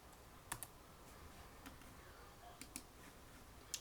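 Someone types on a computer keyboard while entering an agent's name into commissions software, with sparse, quiet keystrokes and a few sharper clicks over a soft background hiss.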